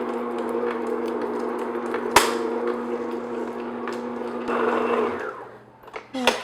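An electric mixer on second speed beats pumpkin cheesecake batter with a steady motor whir and the beaters clacking against the bowl. It winds down near the end, followed by a few sharp knocks.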